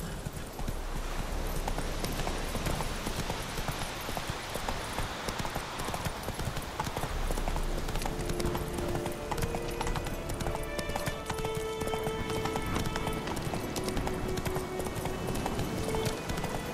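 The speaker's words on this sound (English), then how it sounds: "Whoa there, Roach" Horse hooves clip-clopping steadily in The Witcher 3: Wild Hunt, a continuous loud trotting rhythm with game ambience and a brief whinny, a voice speaking briefly.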